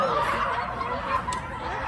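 Poultry calls chatter in the background, a soft mix of clucks and gobbling noises over a faint outdoor hum.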